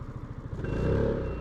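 A Piaggio MP3 530 three-wheel motor scooter engine chugs and then revs up as it pulls away, a brief throaty putter rising in pitch, close by.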